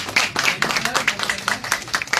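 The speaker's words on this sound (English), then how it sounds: "Please have a big round of applause." A Toastmasters audience claps for a speaker, with quick, rhythmic hand claps close by that sound like a modest group, mixed with a voice speaking over them.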